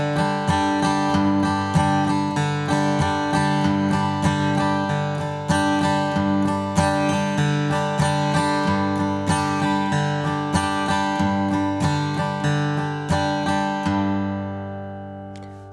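Acoustic guitar played in a boom-a-chaka pattern, with picked bass notes alternating against brushed chord strums in a steady rhythm, ringing out alone and fading at the end.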